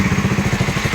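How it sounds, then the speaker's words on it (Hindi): A motorbike engine at night runs in a rapid, even low putter, close and fairly loud, with a light mechanical clatter on top and no voices. "रेहान यहाँ पे बाइक स्टार्ट कर रहा है"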